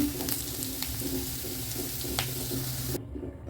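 Perandai chutney ingredients sautéing in oil in a pan, a steady close sizzle with light stirring scrapes that cuts off abruptly near the end.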